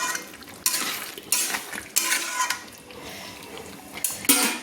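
A spoon stirring chicken curry with coriander leaves in a pan over a medium flame, several bursts of scraping and clinking against the metal separated by short pauses, with a soft sizzle beneath.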